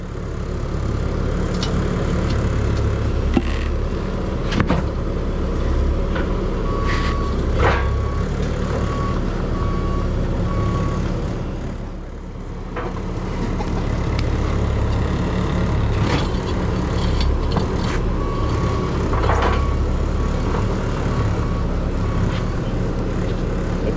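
Reversing beeps from a Bobcat-type machine sound in short repeated bursts as it maneuvers to take on forks, over a steady diesel engine rumble, fairly loud and close, with no one talking.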